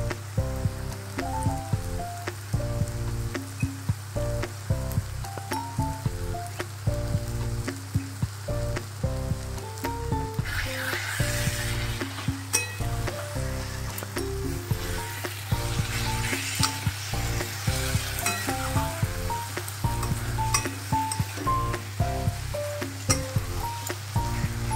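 Ginger paste frying in mustard oil in a wok, a dense crackling sizzle that runs close and steady throughout, with rhythmic background music and no talk.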